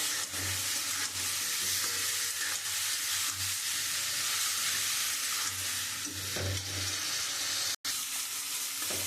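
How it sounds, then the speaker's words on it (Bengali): Spices, chili powder and potato stir-fried in a pan for a rohu fish curry, giving a steady close sizzle with scraping spatula strokes throughout and no talk. "এবার আমি খুব ভালো করে কষিয়ে দেবো"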